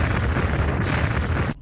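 A volcanic eruption blast roars as a dense, sustained rumbling explosion, loud and continuous for over a second before cutting off abruptly.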